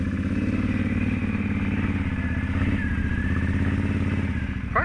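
A repaired Can-Am off-road vehicle engine runs close by on a trail, with a steady, throbbing mid-pitched rumble and a light mechanical clatter throughout and no talking.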